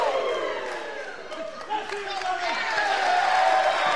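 A wrestling crowd cheering at Pasadena Convention Center, a dense roar of voices and shouts rising toward the end, with a commentator speaking over it.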